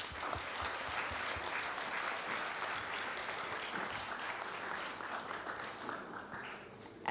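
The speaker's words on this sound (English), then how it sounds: "please join me in giving everyone who contributes to the school a round of applause" Audience at a school event applauding steadily, a dense, sustained wash of clapping from many hands that holds at an even level throughout, with no voices on top.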